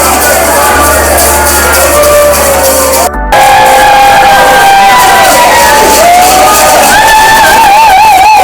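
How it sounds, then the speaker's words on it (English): Crowd at a conference in St. Louis cheering and whooping loudly up close, with shouts and rising and falling cries layered over a constant roar and a brief dip partway through. "they sent us off with a cheering crowd"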